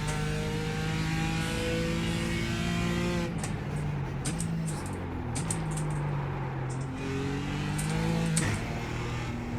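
A BMW M4 GT4 racing engine in iRacing revs hard and shifts through gears, with sharp mechanical gearbox-crash clunks cutting in mid-run and again near the end.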